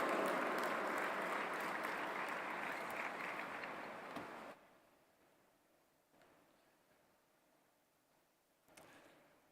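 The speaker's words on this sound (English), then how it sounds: "Please give a huge round of applause" An audience at an interfaith summit claps steadily for several seconds, then the applause cuts off, leaving a quiet room with a few faint bumps.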